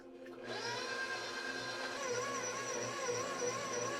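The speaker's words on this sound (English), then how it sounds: "Using my dough hook, I let my mixer do most of the kneading." A stand mixer fitted with a dough hook kneads bread dough, its motor starting up then holding a steady, close whirring hum with a faint rhythmic thump as the hook turns.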